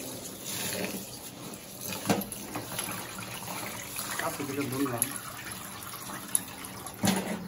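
Food rinsed under running kitchen tap water while preparing khichuri and mutton, a steady trickling flow heard beneath ongoing conversation.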